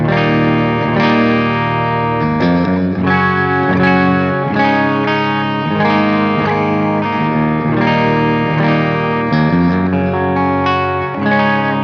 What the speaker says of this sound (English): So on that clean sound, starting with our bridge humbucker,